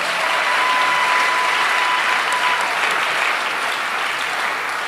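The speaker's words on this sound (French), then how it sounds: "Nous acclamons tout le comité." A church assembly audience applauds the organizing committee with dense, sustained clapping that stays loud and even throughout, with no speech standing out.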